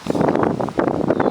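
Strong wind blows straight into the microphone on a boat, a loud, rough, fluttering rumble of buffeting gusts with no voices.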